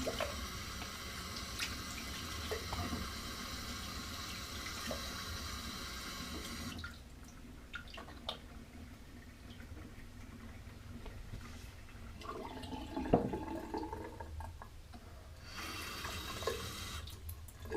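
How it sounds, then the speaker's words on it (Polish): Bathroom sink being refilled from a tap, with a soft steady stream of running water that stops partway, leaves quiet small splashes and drips, then starts again faintly near the end. "Wymienię wodę w umywalce przede wszystkim."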